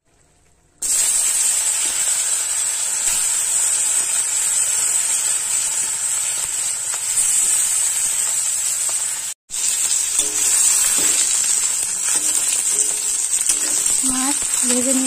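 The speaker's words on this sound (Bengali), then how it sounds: "বাদ বাকি মাছটা ভেজে নেব।" Rupchanda pomfret fish frying in oil in a kadai in a rural Bengal kitchen gives a loud, steady, close sizzle that runs almost unbroken, cuts out briefly near the middle, then resumes with a few soft clinks.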